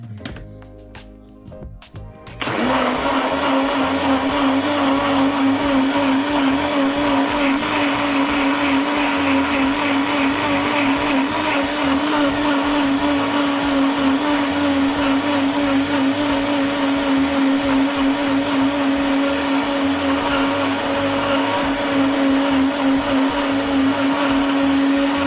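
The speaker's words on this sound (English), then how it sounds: "let's get blending and emulsifying." Blender runs steadily and loud for over twenty seconds, blending and emulsifying fermented hot sauce with oil into a creamy sauce, starting after a brief quiet moment and holding a constant whirring drone throughout.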